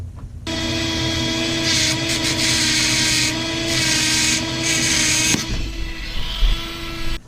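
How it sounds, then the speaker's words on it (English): A power tool grinds down the metal tips of steampunk flash drive parts, a steady loud abrasive whine that runs almost unbroken for several seconds, its pitch shifting slightly as the contact changes. "First thing I want to do is grind down these tips a little bit"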